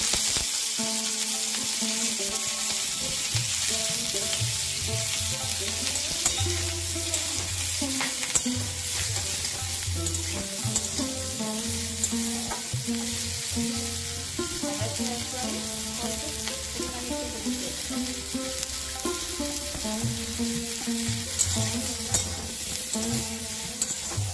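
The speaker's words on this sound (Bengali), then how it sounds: "এবার ব্রোকলিগুলো একটু ভেজে নেব।" Broccoli fries in hot oil in a pan while being stirred, a steady close sizzle with clatter from the spoon running throughout, no voices.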